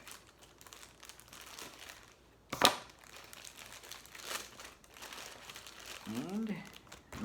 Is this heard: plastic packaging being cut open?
yes